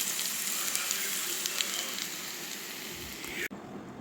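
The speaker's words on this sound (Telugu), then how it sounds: "ఇట్లా రోస్ట్ అయ్యేదాకా ఈ కలర్కి వచ్చేదాకా వేయించుకొని కొత్తిమీర" Chicken fry roasting in a pan gives a steady, close sizzle that continues for several seconds before cutting off abruptly near the end.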